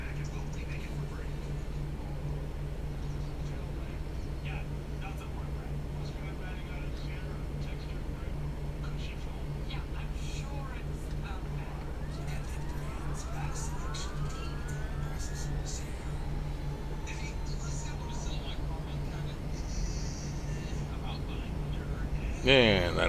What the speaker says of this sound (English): Okay, let's get the second engine started.